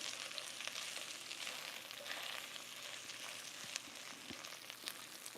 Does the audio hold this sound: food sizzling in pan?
yes